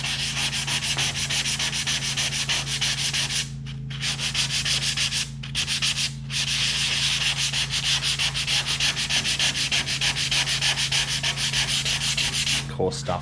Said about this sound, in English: I'll just give it a sandpaper and just scuff it up